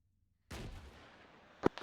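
RPG rocket fired at an infantry section from the north during a patrol, a sudden loud blast followed by a long rumbling tail, then sharp bursts close by.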